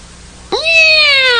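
A cartoon cat gives a single drawn-out meow, loud and close, rising at the start and then holding steady.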